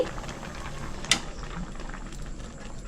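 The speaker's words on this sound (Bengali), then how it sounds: "গ্যাসটা বন্ধ করে দিচ্ছি।" A gas stove knob is switched off with a single sharp mechanical click midway, set against a quiet kitchen hum after simmering moong dal with bottle gourd, bitter gourd and drumsticks.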